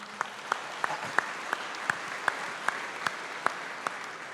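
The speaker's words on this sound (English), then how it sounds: "Round of applause for Charlie, please." Applause at a CPAC conference opening session, heard as a steady spread of clapping with distinct sharp claps recurring at an even pace, moderately loud and unaccompanied by talk.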